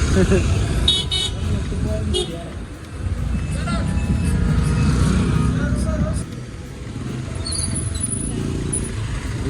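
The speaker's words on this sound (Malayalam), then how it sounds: "നല്ല മുടിഞ്ഞ ബ്ലോക്കാണ്" Dense rumbling road traffic in rain on the road to Ooty, engines idling and moving, short car horn toots cutting through near the end, and voices talking over the din.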